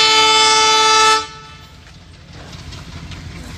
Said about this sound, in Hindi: डबल लोको से ट्रेन चल रही है जो कि पास में आ चुका है। गुड्स ट्रेन है, ट्विन लोको हैं